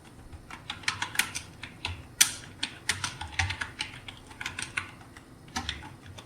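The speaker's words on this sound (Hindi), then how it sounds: "तो सबसे पहले यहाँ पर मैं एक टेक्स्ट लिख लेता हूँ" Steady typing on a computer keyboard while entering text in MS Word, a close, irregular run of crisp key clicks with short pauses, no talking.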